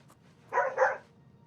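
Two quick, sharp dog barks close together from the video game Oblivion Remastered, loud over a low, steady background hum.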